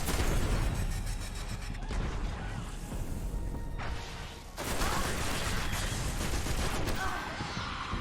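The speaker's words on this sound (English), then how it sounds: "the snipers in this game are just relentless" Heavy gunfire and impacts fill a Destiny firefight against snipers, loud overlapping blasts and crashes that dip briefly around midway, then surge back in a thick, continuous barrage.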